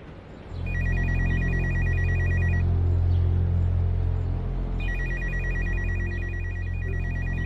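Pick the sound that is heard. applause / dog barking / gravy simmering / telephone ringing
telephone ringing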